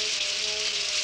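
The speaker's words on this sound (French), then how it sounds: "Impossible de créer sous la pluie." Cartoon rain from the Smurfs falls in a dense, steady hiss, a continuous bright wash of drops with no voices.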